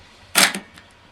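The bolt of a Beretta ARX100 rifle is pulled and locked back in one sharp, close metallic clack, followed by a softer click and a faint rattle.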